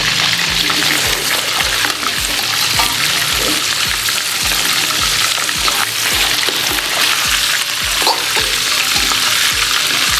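Fish pieces for fish korma fry in hot oil, a loud, dense, continuous sizzle close up with regular soft low knocks running underneath, no talking.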